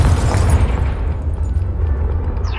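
A Confringo fire spell blasts in Hogwarts Legacy, a heavy continuous rumbling explosion with a deep low roar that stays loud for the whole stretch.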